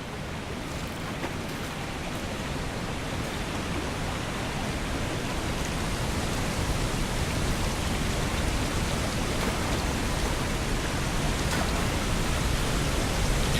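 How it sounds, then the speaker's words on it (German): A waterfall in the video game The Wild Eternal roars as a steady, dense wash of rushing water that swells slightly louder over time, with no speech. "Ich höre einen Wasserfall."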